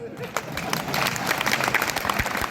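An audience at an outdoor Ramlila festival poetry recital breaks into sustained clapping, a dense close burst of applause that swells and holds for a couple of seconds.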